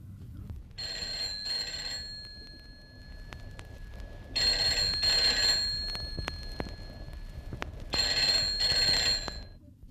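A telephone bell rings in a Marathi radio drama from Akashvani Mumbai: three long, bright ringing bursts separated by pauses, heard alone and fairly clear against a quiet room background.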